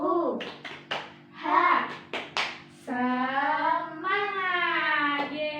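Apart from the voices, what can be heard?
children doing the tepuk semangat clapping chant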